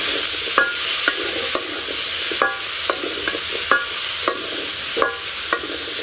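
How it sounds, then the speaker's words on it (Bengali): Vegetables, green chillies and spices fry in a pan with a steady sizzle, broken by sharp spatula knocks against the pan roughly every half second, loud and close. "এরপর ভালো করে নাড়াচাড়া দিয়ে সবজি আর মশলা মিশিয়ে দিই"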